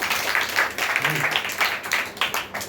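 A church congregation claps steadily and loudly for a few seconds, a dense wash of many hands with no voices over it.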